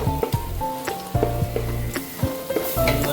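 Chicken curry masala fries in oil and is stirred, a steady close sizzle broken by several scraping stirs and clinks of the spoon against the pan.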